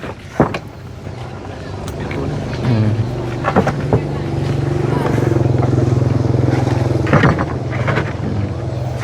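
A walking tractor engine runs with a steady low chugging drone that grows gradually louder and nearer, with people talking over it and a few knocks and clatters at the start.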